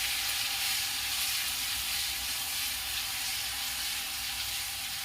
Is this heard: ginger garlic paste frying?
yes